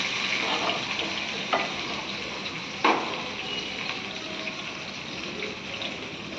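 Onions frying in a pan for a chicken and raw cashew curry, a continuous hissing sizzle with a couple of faint utensil knocks, fairly even and moderately loud, no voices.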